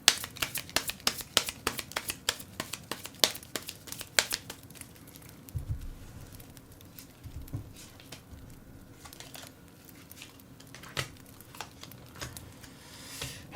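Tarot cards are shuffled and drawn in a rapid run of crisp, close riffles and slaps, then slower scattered flicks and soft handling as individual cards are pulled and laid down.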